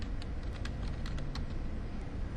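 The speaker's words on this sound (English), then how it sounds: "we're going to backspace, type in a parentheses, another parentheses" Quick, irregular clicks of keys on a computer keyboard, close and steady for a couple of seconds over a low background hum.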